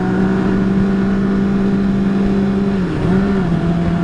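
A Honda CBR 1000 motorcycle revs up close with a loud, sustained engine tone that dips briefly and then climbs again.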